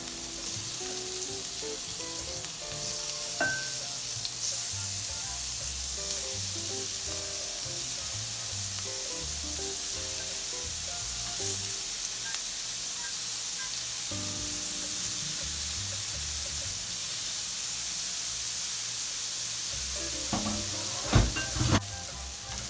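Shrimp frying in a pan for chicken and shrimp chow mein, a continuous soft sizzle with scattered stirring clicks and a few sharper knocks near the end, no voices.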